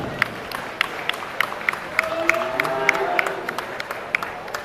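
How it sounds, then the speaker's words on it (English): A crowd at a youth steer and beef showmanship event applauds the junior showmen with scattered, sharp hand claps over a low crowd murmur, and a faint voice is briefly audible. "Let's have a round of applause for our junior showman"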